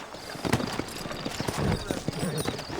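Horse hooves clip-clop steadily on the ground in the Western game Red Dead Redemption, close and fairly loud, with people talking over them.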